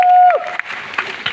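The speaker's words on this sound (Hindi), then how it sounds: "जबरदस्त तालियां हम सभी लोगों के लिए।" Audience applause at a large mega event speech, a short, dense burst of clapping from a crowd that begins after a brief tonal whine and stays loud and close throughout.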